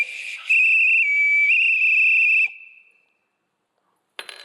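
A single shrill whistle is blown loudly during a church sermon, sustaining for about two seconds before fading, followed by a brief quiet gap and a short noisy burst.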